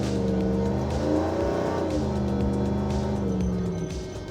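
A 2016 Chevrolet Silverado pre-runner truck engine roars loudly and steadily under hard acceleration, its pitch climbing and dipping through firm gear shifts, with no talk.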